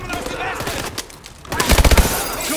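Gunfire in the video game Call of Duty: Advanced Warfare, a rapid burst of loud shots in the second half following a quieter stretch, with someone talking over the action.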